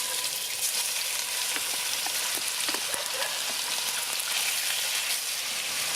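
Melted coconut oil heats and sizzles in a restored Dutch oven on a Weber kettle grill, a steady soft crackle with scattered pops running throughout.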